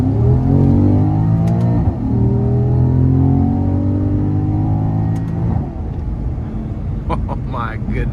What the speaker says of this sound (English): we're gonna get on the interstate here, and we're gonna give it some throttle